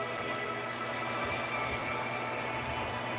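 A steady, loud rumble of a train attack in the video game Westland Survival, a continuous rolling rail-like drone with no clear breaks, heard alone without talk.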